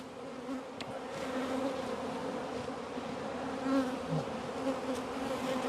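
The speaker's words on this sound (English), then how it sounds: "Bees are active." Honey bees buzz steadily around beehives in an apiary during spring swarm-control work, a continuous moderate drone of many insects with individual bees passing closer now and then.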